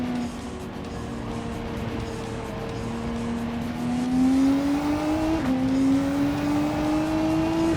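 A race car engine in Gran Turismo 7 holds a steady, loud drone that climbs in pitch, with a sharp gear-shift break partway through before the revs rise again, alone without talk.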